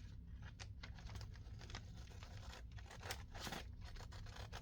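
Scissors snip through a sheet of vellum paper in a quick series of crisp, close cuts and scrapes, fairly quiet and without talk.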